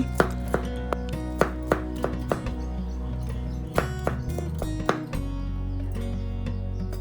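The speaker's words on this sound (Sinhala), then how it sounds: "සුදු ලුණු බික් 7-8ක් අරගෙන ඊනියට පොඩි කෑලි වෙන්න කපාලා ගන්නවා අපි." A knife chopping seven or eight garlic cloves into small pieces on a board: close, evenly spaced tapping thuds, about two a second, over steady background music.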